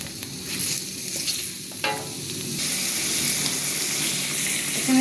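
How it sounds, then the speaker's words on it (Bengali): Curry ingredients lightly frying and being stirred in a pan for an Afghani chicken malai curry: a steady close sizzle with scraping stir strokes, with no talking. "হালকা একটু ভাজা করে নিব"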